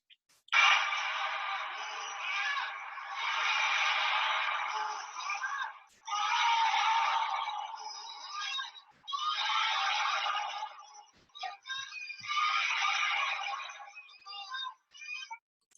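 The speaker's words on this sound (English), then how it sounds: "lots of people in Wuhan province, which is obviously the epicenter of coronavirus, leaning out their windows and shouting at the tops of their voices" A crowd in Wuhan, epicenter of the coronavirus outbreak, shouts encouragement from apartment windows, a distant, echoing chorus of massed voices rising in long waves with short gaps between them.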